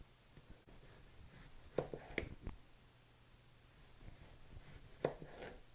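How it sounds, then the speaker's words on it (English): Knife cutting through green tomatoes for a fried green tomato BLT, a few soft, near crunchy slices in two small clusters over a quiet kitchen background. "I'm going to slice my tomatoes"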